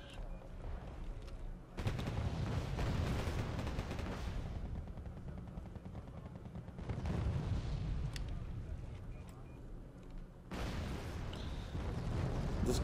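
Video game unit fire from Wargame Red Dragon crackles in dense bursts of guns and heavy booming impacts, fairly faint and broken by brief lulls, with a voice talking at times.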